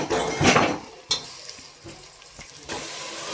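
Tomatoes tipped into a frying pan over ginger-garlic paste and stirred for a groundnut tomato rice dish, with sharp clatters of a utensil against the pan, a brief scrape and soft sizzling, close and alone.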